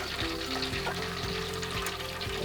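A whole turkey frying in a pot of very hot oil, with a steady, dense bubbling sizzle that stays loud and close throughout, with no talking.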